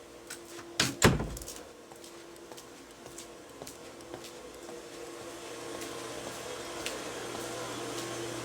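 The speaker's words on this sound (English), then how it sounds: "while I close this door" A door on a house deck is pulled shut with a couple of sharp knocks and a solid thud near the start, followed by quiet outdoor ambience.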